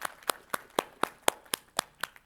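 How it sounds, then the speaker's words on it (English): Steady rhythmic hand claps at a Muslim parent-student meeting, about nine sharp claps spaced evenly over two seconds, fairly quiet and without talk, suggesting a single person or small group clapping in time. "give a round of applause for them right now"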